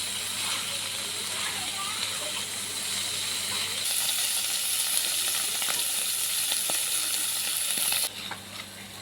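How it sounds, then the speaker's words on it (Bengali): Salted paneer pieces fry in a hot kadai with a continuous close sizzle and hiss, occasional stirring scrapes, while a person talks over the cooking. "পনিরগুলোকে ভালোভাবে ভেজে নেব।"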